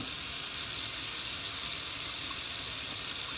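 Hot water runs from a tap as a steady, loud, close hiss that stays even for a few seconds without pauses or speech.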